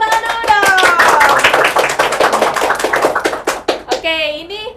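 Several people clap by hand at a school event, sharp distinct claps mixed with voices and a child's speech, ending in a brief tonal sound.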